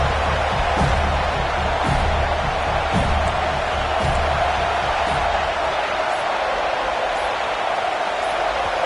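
A dense, roaring stadium crowd at a Sun Devils college football game keeps up a constant loud wash of noise throughout, with a few dull thumps rising out of the din.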